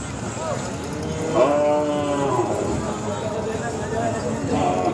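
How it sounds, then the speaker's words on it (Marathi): Khillar cows at the busy Sangola cattle market give a drawn-out moo among crowd noise, with someone talking nearby and a second low call toward the end. "मित्रांनो तुम्ही समोर पाहतात या दोन गायसुद्धा विकलेल्या आहेत"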